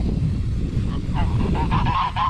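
A goose honks repeatedly nearby, raspy calls coming one after another over low rumbling background noise.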